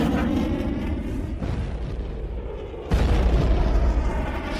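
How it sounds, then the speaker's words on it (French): Deep, rumbling booms of cannon fire in a military setting, a sustained low roar that swells again sharply near the end, loud and continuous with no talk. "j'entends le bruit du canon"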